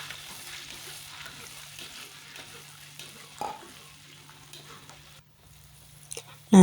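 Blended chili stirred and frying in a pan, giving a soft, steady sizzle with light scraping from stirring, fairly quiet throughout and ending in a brief louder clatter.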